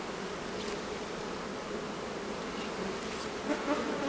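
A steady, dense buzzing of many Ukrainian steppe honey bees close by at an open hive, continuous and even throughout, with no voices.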